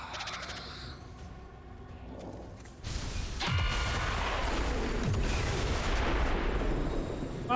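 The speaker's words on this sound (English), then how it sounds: "at least the trooper died from the explosion" A heavy explosion in the video game XCOM 2 bursts in suddenly partway through after a quieter stretch, then a loud, dense roar and rumble carries on to the end.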